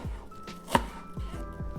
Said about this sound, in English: we want that finely chopped or diced even